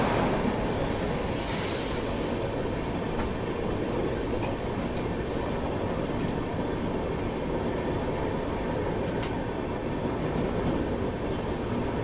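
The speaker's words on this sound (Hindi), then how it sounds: "दालखोला रेलवे स्टेशन फिलहाल हमारी गाड़ी स्किप कर रही है" Rajdhani Express passenger train hauled by a WAG9HC electric locomotive skipping through Dalkhola railway station, heard from inside a 2AC coach: steady loud rumbling wheel roar with occasional high squeals and clatter, no voices.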